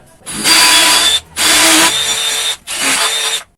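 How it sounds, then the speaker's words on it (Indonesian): A power drill with an 8 mm masonry bit boring through a wall in three loud sustained runs separated by brief pauses, close to the listener. "Ya, yang saya gunakan ini bor beton 8 mm ya."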